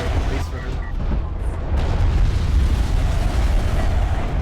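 Short-range barrage from a siege ship in the strategy game Homeworld: Deserts of Kharak, a dense continuous rumble of overlapping booms, loud throughout, with a voice talking over it.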